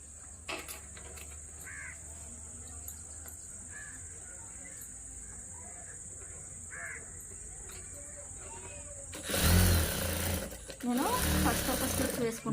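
A sewing machine stitches the double-layer sleeves of a blouse in a loud, close whirring run near the end. Before that someone talks over a steady background hum and crows caw in the distance.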